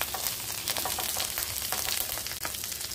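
Garlic and sliced zucchini sizzle in a pan of mixed cooking oil and sesame oil, a dense, steady crackling fry with small popping spatters throughout, close and unbroken.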